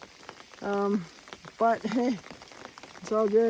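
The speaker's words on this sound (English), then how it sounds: "Rain's coming in a little harder now" Steady rain patters on a mountain trail during an Appalachian Trail ascent, a soft, constant hiss running beneath a hiker's close voice talking.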